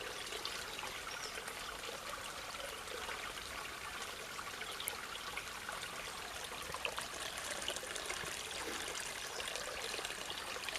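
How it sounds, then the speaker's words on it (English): A stream of mixed spring water and rainwater flows steadily outdoors after a storm, giving a continuous close rushing and trickling wash with no talk. "Lovely flow in that water."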